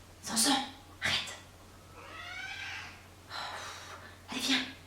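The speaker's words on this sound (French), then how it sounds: "Décidément, ce chat est tout le temps en train de râler." A cat grumbles close by in a series of short, raspy, breathy vocal bursts, some sounding like snorts or gasping meows, spaced over several seconds.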